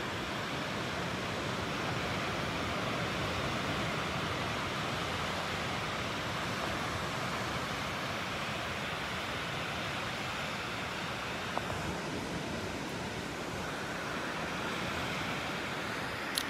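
Ocean waves break on Pawleys Island beach at sunrise, arriving roughly every eight to nine seconds, forming a steady, moderately faint surf roar that continues without voices.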